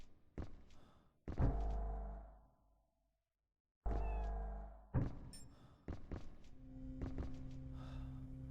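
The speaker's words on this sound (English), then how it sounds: "We definitely heard a cat." A cat meows in the horror adventure game Echo Night: Beyond, a few short cries separated by thuds and knocks, with a sustained tone building near the end; no one speaks.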